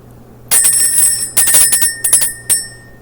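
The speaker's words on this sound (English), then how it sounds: "Let's ring the bell, clear out the energy" A bell rung in a spiritual energy-clearing session, struck several times in uneven succession, each bright ringing strike loud and close and decaying briefly before the next.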